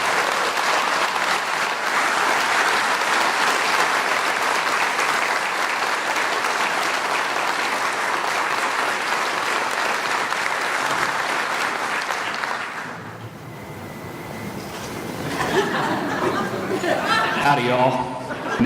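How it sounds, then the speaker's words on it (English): Sustained, loud applause for veterans at a school-district breakfast event, broad clapping that runs for over twelve seconds before dipping, then resuming alongside chatter and some laughter. "Let's give a round of applause to our wonderful veterans who are here at this table"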